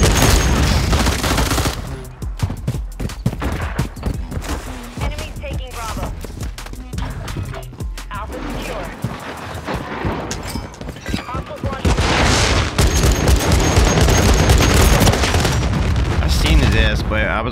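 Dense automatic gunfire and explosions from the Call of Duty MW3 video game roar loudly and almost without pause, with rapid bursts and booms layered together and talk mixed in.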